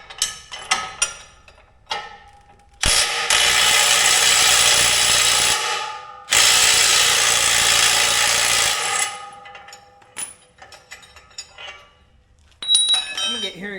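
A loud power tool, likely an impact wrench, tightens bolts on a Frontier GS1172 seeder in two long, close bursts of a few seconds each, with clanks and rattles of tools and parts before, between and after.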